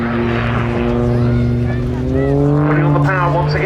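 Pitts S-2S aerobatic biplane at an air show, engine powering up with a loud, steady propeller drone that climbs in pitch, heard close and continuous.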